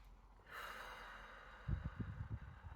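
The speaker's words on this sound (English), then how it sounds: "you just start breathing in through your nose and out through your mouth" Slow, deliberate breath drawn in through the nose and let out through the mouth during guided meditation, a long soft airy exhale followed by low rough breathy pulses, close and quiet with no talking.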